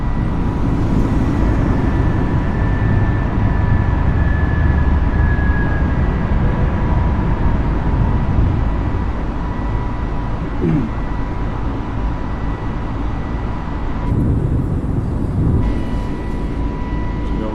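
Simulated airliner engines at climb power shortly after takeoff from Heathrow in Microsoft Flight Simulator 2020, a steady loud broadband roar with a faint whine holding throughout, a brief thump near the end.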